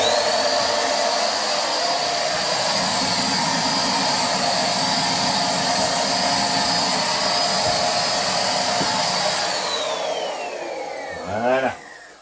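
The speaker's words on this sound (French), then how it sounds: "je vais aspirer la petite poussière que j'ai mis dans un coin" A vacuum cleaner sucking up a little dust from a corner, a loud steady whine and rush that holds for about ten seconds, then winds down in pitch as it switches off.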